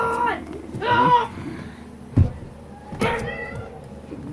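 A cat meows repeatedly at close range, several drawn-out, agitated cries separated by a sharp thump, with brief faint voices in between.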